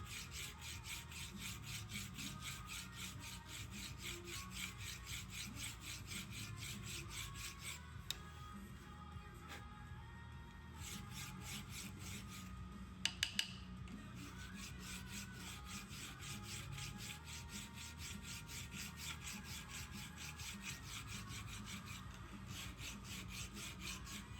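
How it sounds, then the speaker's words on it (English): Steady rhythmic rasping of a hand file working a steel seax blade in a workshop, repeated strokes continuing close and alone for the whole stretch with a brief pause partway. "Just more hand filing work here"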